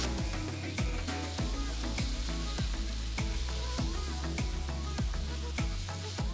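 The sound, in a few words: chilli paste sizzling in rice on a tawa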